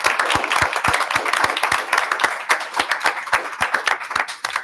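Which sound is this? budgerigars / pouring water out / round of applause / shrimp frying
round of applause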